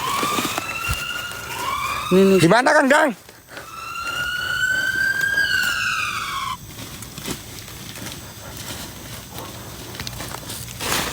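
An ambulance siren wails with rising and falling tones over village street noise, while people talk nearby and a short burst of louder voices cuts in.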